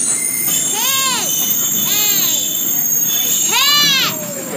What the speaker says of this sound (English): It's the brakes.